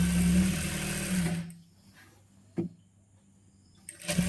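A sewing machine stitching a churidar hem runs in a steady, loud, humming burst for about a second and a half, then stops, leaving near-quiet with a couple of faint clicks.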